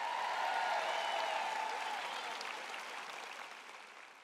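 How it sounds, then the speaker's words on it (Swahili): A church audience applauding Dave, a dense burst of clapping from many hands that holds strong, then slowly fades over about four seconds. "mpigeni Dave makofi mazito"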